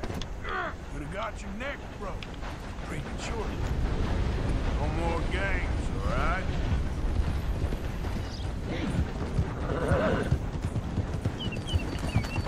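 Horse hooves clop steadily while a horse neighs a few times in Red Dead Redemption 2, with game ambient noise and a voice talking underneath.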